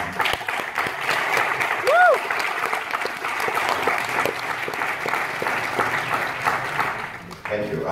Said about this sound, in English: I always feel strange when people applaud